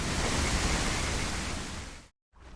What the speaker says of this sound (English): The water sound event is straightforward. It's a looping sound that follows a spline, moving relative to the player.